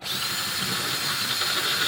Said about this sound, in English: I'm gonna try to drill this out, is what I'm gonna do.